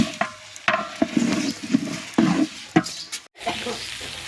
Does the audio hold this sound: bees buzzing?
no